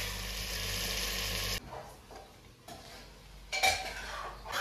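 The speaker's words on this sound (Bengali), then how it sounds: "মিডিয়াম ফ্লেমে রেখে এটাকে একটু কষতে দেবো" Mutton coated in masala with softened onions sautéing in a pan over a medium flame, a steady close sizzle with scraping and stirring clatter, briefly quieter midway before the sizzle picks back up.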